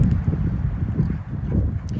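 Blustery Arizona wind rumbles against the microphone in uneven low gusts, with a faint rustle underneath.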